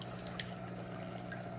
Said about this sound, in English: What I'm using in here is this is actually a pretty strong water pump